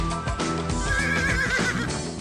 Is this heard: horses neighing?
yes